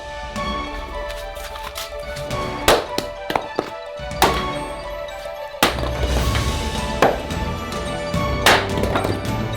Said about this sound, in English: But to do this, first we need to chop up some wood.